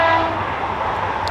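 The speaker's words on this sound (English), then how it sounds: "Train on the main line there, heading into Taunton." A train runs along the main line toward Taunton near the Bridgwater and Taunton Canal, giving a steady, fairly loud rumble and rolling hum that holds even through the whole short stretch with no voices.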